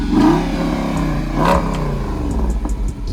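A Dodge Charger 392 leaving a Cars and Coffee meet revs loudly and close by, its engine rising and falling in throaty surges that settle into a rough, burbling idle.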